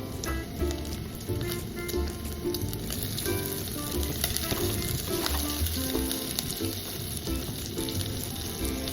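Chili hitting a hot pan for kare-kare, giving a steady, loud oil sizzle and crackle that runs unbroken throughout, with faint clinks of stirring over it.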